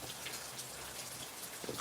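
Rain falls steadily outdoors on a patio beside woods, a soft continuous patter of drops at moderate distance with no voices.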